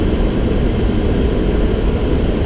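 Inside a Boeing 737 landing at Naryan-Mar, a broad, steady roar of engines and airflow fills the cabin or cockpit, constant and loud without a break, no speech over it.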